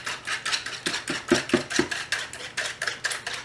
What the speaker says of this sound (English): So you got your 2 eggs,